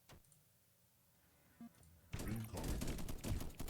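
Turrets open fire in the base-building survival game Deep Among The Swarm: after a quiet stretch with a couple of faint clicks, a dense burst of rapid gunfire erupts and keeps going loud to the end.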